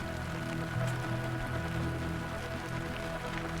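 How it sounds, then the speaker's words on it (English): Steady rain patters on a surface in the desert during an ultra marathon, a continuous close hiss of drops with no voices. "It's raining in the desert."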